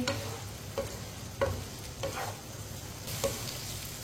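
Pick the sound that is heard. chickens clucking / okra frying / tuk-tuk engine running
okra frying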